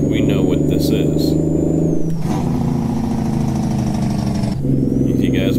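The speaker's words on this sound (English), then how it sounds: "That's the Cummins engine brake sound file." Kenworth K100 truck with a Cummins engine brake in American Truck Simulator, a loud steady low diesel drone with a harsher braking rasp through the middle before the engine tone returns.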